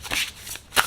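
Quick riffling bursts of tarot cards being shuffled, two crisp flurries close by with a short pause between them.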